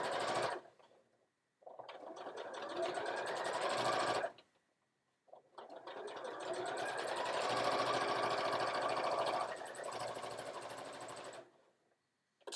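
A sewing machine top stitching a fabric bag runs in three close, loud bursts of rapid mechanical whirring and needle clatter, separated by short silent pauses.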